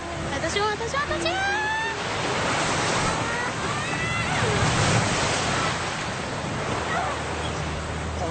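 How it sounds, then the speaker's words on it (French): Heavy sea swell and surf wash against a sailing boat crossing near Bab el-Mandeb, a loud continuous rush of waves mixed with strong wind buffeting the microphone, with brief voices near the start. "On a de la houle face à nous."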